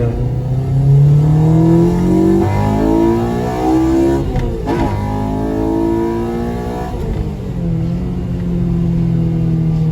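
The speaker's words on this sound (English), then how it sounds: "Got some baby pops" A Honda Civic DX with a swapped K20Z3 engine and a 2.5-inch exhaust accelerates loudly through rising revs, with a couple of brief sharp exhaust pops breaking through the rumble.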